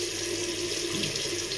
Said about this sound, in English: let's put on some water, cold water